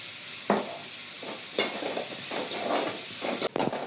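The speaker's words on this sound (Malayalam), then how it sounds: "ഈ ചൂടായ വെളിച്ചെണ്ണയിലേക്ക് ഇടാം. അവിടെ നമുക്ക് വഴറ്റിയെടുക്കാം." Onions sautéing with salt in hot coconut oil, a steady close sizzle broken by several sharp scraping stirs of a spoon against the pan, with no voices.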